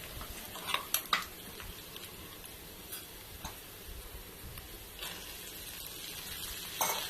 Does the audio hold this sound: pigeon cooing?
no